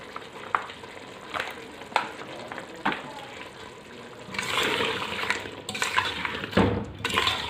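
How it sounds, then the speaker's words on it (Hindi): Mutton and taro root being fried in oil, intermittent clanks of a spoon on the pot over low sizzling, then a louder rushing hiss and bubbling swell as stirring intensifies, a heavy knock near the end. "अब गोश्त को अच्छी तरह से भून लेंगे हम।"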